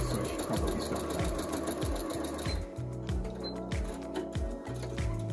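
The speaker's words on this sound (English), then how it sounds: "The sewing machine cuts its own thread." A sewing machine whirring with a rapid mechanical rhythm, then shifting to a series of repeated clunks and whirs as it trims the thread.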